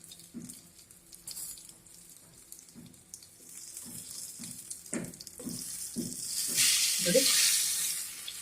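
Fish frying on a tawa, coastal style, gives a soft sizzle punctuated by scraping and tapping as the pieces are turned, and the frying swells louder toward the end, with a brief spoken word.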